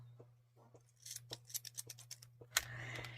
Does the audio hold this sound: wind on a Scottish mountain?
no